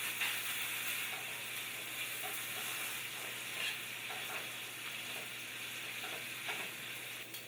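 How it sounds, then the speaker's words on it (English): Three tablespoons of butter melt in a hot pan, giving a continuous crackling sizzle with faint scattered pops and light scraping as it is moved around, close and steady with no voices. "you're going to take 3 tablespoons of butter and add it to the pan"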